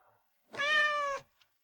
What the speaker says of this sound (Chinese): 夜半阳台，小橘猫扒拉掉落的碎石边角料